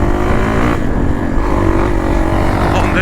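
Dirt bike ridden on a trail at low throttle in first gear with the clutch slipping: a loud, close, continuous engine drone that stays fairly steady, with no talking.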